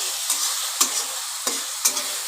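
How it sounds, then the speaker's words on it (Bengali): Chopped masala fried and stirred in a pan for an egg bhujia curry, a steady close sizzle broken by four or five sharp spatula scrapes at uneven intervals. "ভালো করে নাড়াচাড়া করে ভেজে নেব"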